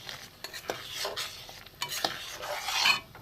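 Fried bitter gourd pieces tumble into boiling mung dal and get stirred, giving a few soft splashy clatters and scrapes over a light simmering hiss, close by with no talk.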